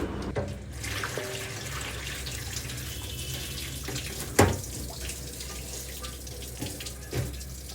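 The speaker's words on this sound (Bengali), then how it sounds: "তো এবার খুব ভালো করে ধুয়ে নেব। ভাজার পর আমি এখন পানির মধ্যে দিয়ে দিয়েছি।" Fried dried fish (shutki) being washed in water, with a steady run of splashing and pouring, dripping throughout and a few sharper splashes near the end.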